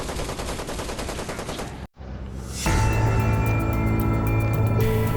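An AS-44 prototype Soviet assault rifle in Projekt Z, a WW2 zombie survival game, fires loud sustained automatic bursts. A short gap splits two stretches of rapid, steady shots, with no voices.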